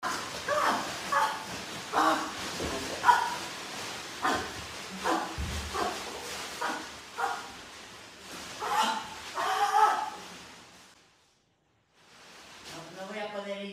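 A small dog barks and yips in a steady run of short bursts for about ten seconds, with voices mixed in. After a brief pause it gives a higher, drawn-out whimper.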